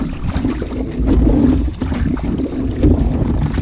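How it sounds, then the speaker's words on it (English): Solo canoe paddling into a strong headwind on Burnt Island Lake in Algonquin Park, with steady low wind rumble and buffeting against the microphone, water sloshing and faint paddle strokes throughout, no talking. "I don't think people realize how hard it is paddling into a headwind, especially when you're solo"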